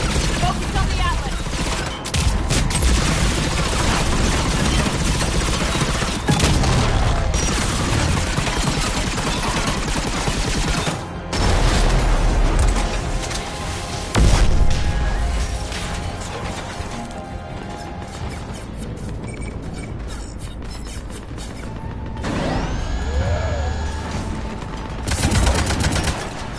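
Cannons and heavy weapons fire through a Mass Effect battle, with loud, dense volleys, crashes and mechanical clatter running throughout, rising and dipping, mixed with game effects and music.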